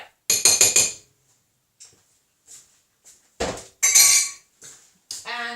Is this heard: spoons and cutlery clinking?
yes